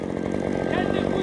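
A chainsaw runs steadily at close range while cutting during a dangerous tree removal near a house and power and telecom lines, its loud buzzing engine filling the clip with a slight rise in pitch.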